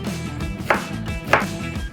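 A knife chops red onion on a cutting board, two sharp separate strikes about half a second apart with quiet kitchen sounds between them.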